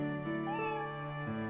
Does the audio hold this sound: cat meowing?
yes